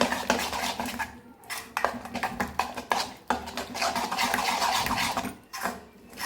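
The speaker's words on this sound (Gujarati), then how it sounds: "મસાલો જે કર્યો તે હું આમાં એડ કરી લઈશ. સરસ મિક્સ કરી લઈશું." A utensil stirs spice mix into appam batter in a bowl, giving busy, repeated scraping and clattering against the metal with a few short pauses, close and fairly loud.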